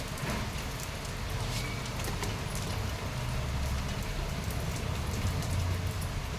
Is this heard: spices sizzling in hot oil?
no